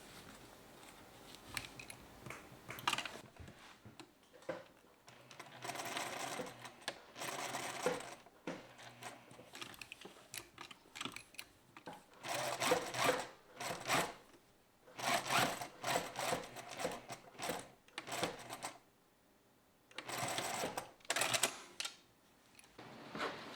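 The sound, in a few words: sewing machine stitching a bow tie collar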